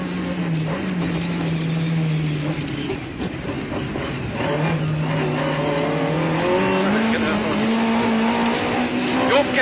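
A Lada VFTS rally car in the Live for Speed racing game drives with a loud, continuous engine note whose pitch climbs and drops through gear changes, mixed with road and tire noise while a co-driver's voice reads notes over it.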